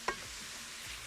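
Minced meat seasoned with nutmeg, salt and pepper fries over onions in a pan, giving a steady, even sizzling hiss after a single sharp click at the start.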